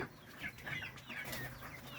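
Young meat chickens, nearly ready at about 45 days old, cluck and cheep in a series of short soft calls close by, with light rustling in between.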